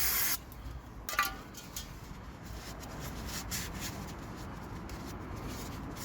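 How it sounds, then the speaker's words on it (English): An aerosol can of brake cleaner sprays in a long, steady hiss after a brief initial burst, close to the microphone, continuing for several seconds during a Mazda MX-5 NC oil change. "Little spray off with brake cleaner."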